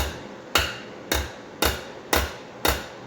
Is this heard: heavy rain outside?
no